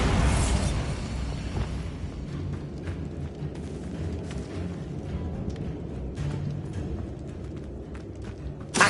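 A Bombarda blasting spell explodes in Hogwarts Legacy with a loud opening burst, then a long rumbling, crackling tail of debris and scattered impacts that fades out, ending in a sharp pop.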